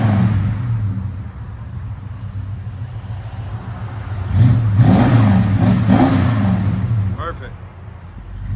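A 1989 Dodge Ramcharger with a 5.9L V8 and Dynomax exhaust rumbles steadily at idle, then revs up briefly around the middle before settling back, recorded close with a person talking over it.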